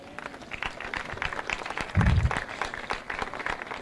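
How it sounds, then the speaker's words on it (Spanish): Audience applause at a Startup Grind event in Santiago, a scattered, moderately quiet patter of hand claps spread over a few seconds, with a brief louder thump near the middle and no talking. "Por favor, un aplauso para ellos."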